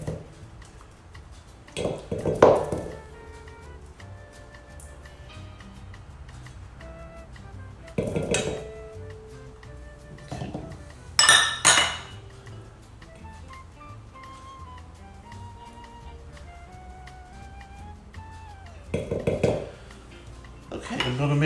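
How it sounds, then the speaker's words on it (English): Cream cheese and mayonnaise are mixed in a bowl, with sporadic clinks and scrapes of a utensil against the dish in scattered bursts amid quiet stretches, fairly close. "I'm going to mix and combine the cream cheese and the mayonnaise really good."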